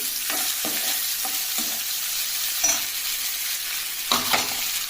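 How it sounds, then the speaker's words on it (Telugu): Bottle gourd pieces drop into a frying pan of softened tomatoes, setting off a steady close sizzle with a few soft thumps and stirring scrapes. "సొరకాయ ముక్కలను యాడ్ చేస్తున్నాను."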